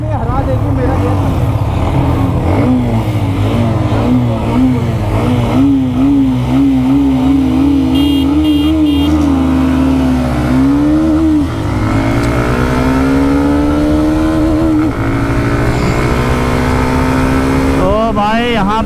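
A Bajaj Pulsar N125 and a Hero Xtreme 125R drag race side by side, their 125cc engines revving loudly and rising in pitch through repeated gear changes, sustained for the whole run with a voice occasionally audible over the engines.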